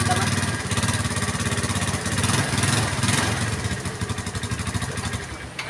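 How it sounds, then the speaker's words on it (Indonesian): A Yamaha Mio scooter engine runs steadily at idle with an even, rapid putter, close and fairly loud, with a brief blip of revving partway through. The engine has a worn piston and puffs white smoke. "Tapi dari suara motornya itu, dari suaranya motor halus teman-teman."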